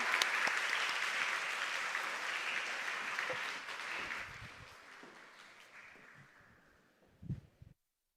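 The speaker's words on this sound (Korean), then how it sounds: "목사님 나오실 때 할렐루야 하고 박수로 환영하겠습니다." A church congregation applauds to welcome a pastor, a broad sustained wave of clapping that gradually fades, ending with a few scattered claps and a brief rustle.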